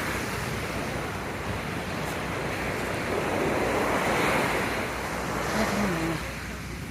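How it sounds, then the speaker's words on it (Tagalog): Big ocean waves crash and wash continuously at a beach beside a boardwalk in Calatagan, a loud, broad roar with gusty wind noise on the microphone. "napakalaki ng hampas ng dagat."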